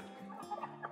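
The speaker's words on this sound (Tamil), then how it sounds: "எல்லாமே இது முட்டையிற கோழி தான்." Country laying hens on a goat farm cluck softly, a few short, faint clucks rising near the end over a quiet background.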